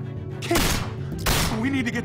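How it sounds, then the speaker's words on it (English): Video game gunfire rings out in two sharp, loud bursts about a second apart, close and punchy, with brief ringing tails. "I hear gunfire."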